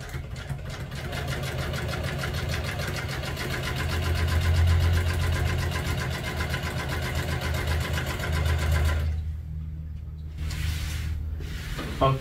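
An upholstery sewing machine sews a pleat into classic car tuck-and-roll upholstery, a steady close droning hum for about nine seconds before cutting out, leaving faint sounds.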